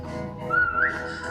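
A short whistled tone rising in pitch, heard over a steady background hum; fairly near and clear, lasting under a second.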